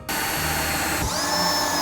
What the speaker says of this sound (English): flip them upside down and drill some holes for drainage